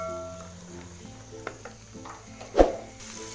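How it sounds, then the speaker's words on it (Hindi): Vegetables frying in an open pan for a fried rice dish, with a soft sizzle, light stirring scrapes and one sharp utensil knock near the end, quiet and close. "दो 3 मिनट इसको भी हम ऐसे ही फ्राई कर लेंगे"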